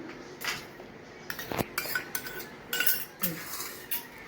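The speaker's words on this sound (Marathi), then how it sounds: "चिकनला मी एका बाउलमध्ये काढून घेतलेले आहे सर्व मसाले त्याच्यामध्ये मिक्स करूया" Spices are mixed into chicken marinade in a bowl with a utensil. Soft scraping and clinking against the bowl come in irregular bursts, close and moderately quiet.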